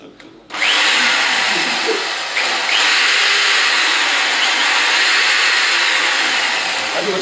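Hammer drill switched on after a brief pause, a loud steady high-pitched motor whine running close and continuous for several seconds, with a slight dip partway.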